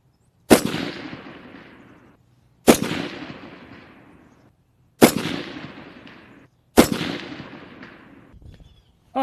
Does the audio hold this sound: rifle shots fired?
yes